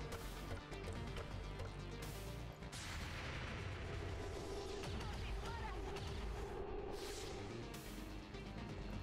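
Gunfire from the turn-based strategy game XCOM 2, a dense, continuous barrage of booming shots and crashes that stays loud and steady throughout, with a few brief sharper bursts.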